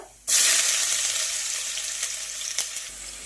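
Cumin, mustard seeds and ginger-garlic paste hit hot oil for a khichdi, setting off a sudden loud, steady sizzle that carries on with a few small pops, close and with no talking.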